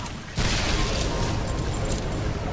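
Explosions in the first-person shooter Shadow Warrior, a sudden loud boom followed by dense, continuous blasting and rumbling, with a voice talking over it.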